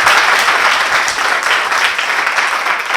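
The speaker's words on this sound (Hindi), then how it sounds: "अपने पिताजी के लिए एक बार जोरदार तालियां बजा दीजिए" An audience at a kavi sammelan poetry gathering gives loud, dense, sustained applause for fathers, a continuous roar of many clapping hands close up with no speech over it.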